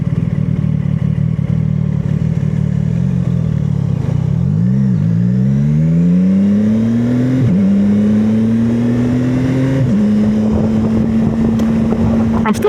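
A CFMoto 675SS motorcycle engine roars loudly up close while riding through city streets, revs rising in sweeps with distinct gear shifts, amid heavy wind noise on the microphone.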